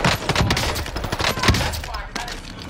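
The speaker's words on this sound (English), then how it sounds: "this nigga's shooting Twin in the ass" Rapid bursts of video game gunfire crackle loudly and densely across the whole moment, with a few sharper shots standing out near the middle.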